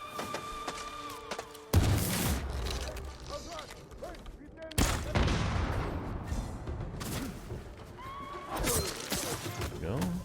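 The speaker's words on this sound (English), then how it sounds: "They're all weak from the explosion." An explosive arrow detonates among enemies in Ghost of Tsushima, sharp loud blasts near two and five seconds trailing into crackling debris and clatter, with game voices and a horse whinny mixed in.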